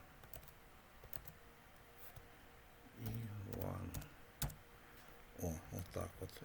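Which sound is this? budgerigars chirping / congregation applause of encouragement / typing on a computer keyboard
typing on a computer keyboard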